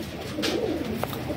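Male pigeons coo softly nearby, a low throaty warble with brief bursts of wing or feather noise, against a quiet background.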